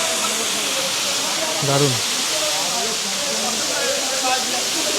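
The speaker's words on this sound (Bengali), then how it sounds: "আর এটাই হলো গন্ডাহাতি ওয়াটারফল" Gandahati waterfall in Odisha, a steady broadband roar of falling water with people bathing nearby, constant and fairly loud throughout, with a brief voice speaking over it.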